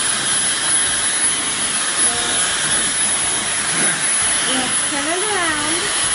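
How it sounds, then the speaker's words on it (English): A hair dryer blows steadily on a plush mermaid toy, a constant loud whooshing hiss running throughout while someone talks over it. "this is our next step, is to blow dry it."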